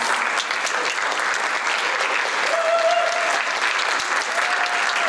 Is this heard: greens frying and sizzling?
no